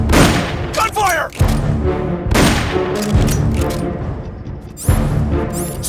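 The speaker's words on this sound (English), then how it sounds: "Someone's firing at us!" Gunfire from the stealth action game Metal Gear Solid Peace Walker: dense, loud bursts of shots and booming blasts across the clip, mixed with game sound effects and layered tones.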